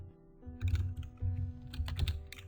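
Code being typed on a computer keyboard: a quick, steady run of close, light key clicks with an irregular rhythm over a faint hum.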